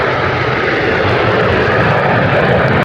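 Blue Angels jets roaring low overhead at a flight line, a loud, steady, close engine rumble filling the whole clip before cutting off abruptly.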